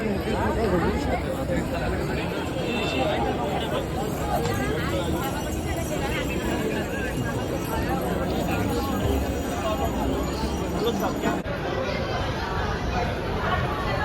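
Busy Mahabaleshwar restaurant crowd, a constant, fairly loud babble of many overlapping voices with scattered clinks, unbroken throughout.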